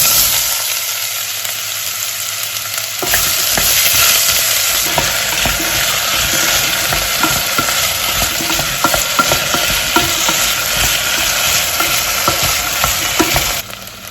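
Potatoes softening in a warm pan with a thin layer of oil for vegetable soup, frying with a steady sizzle and repeated stirring scrapes close by. The sound rises sharply after a few quiet seconds and then holds loud and continuous.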